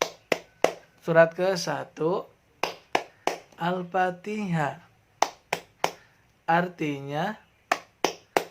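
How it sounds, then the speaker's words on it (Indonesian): Sharp, rhythmic hand claps punctuate a spoken Al-Fatihah clapping chant in an Indonesian children's lesson, landing between the phrases of a clear voice. "boleh kita tepuk Al-Fatihah sekarang ya"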